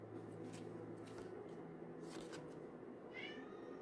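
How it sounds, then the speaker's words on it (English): A house cat meows a couple of faint, drawn-out times indoors, with a soft rustle partway through over a steady low room hum. "Oh, that's my cat meowing."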